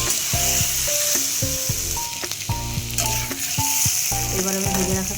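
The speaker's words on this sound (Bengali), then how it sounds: "তো এবার এটাকে আমি মশলার মধ্যে মিশিয়ে নেব।" Lightly boiled potatoes are stirred into sizzling spices in a hot pan, with steady frying hiss and repeated clinks and scrapes of a spoon against the pan.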